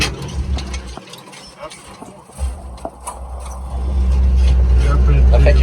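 A 1969 Chevy C50 grain truck with a 5-speed and splitter runs while shifting gears, its engine low and rumbling under close talk, dipping and then building to a steady, louder drone.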